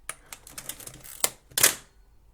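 A Pentax K1000 film camera fires its mechanical shutter several times in a row, a series of sharp, quiet clicks that quicken toward the end, ending on a louder snap, close up with no talking.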